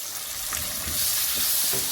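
Tomatoes frying in a karahi with onions and spices for a dhaba-style cauliflower dish, giving a steady close sizzle with a few stirring scrapes, rising slightly louder in the second half, no voices.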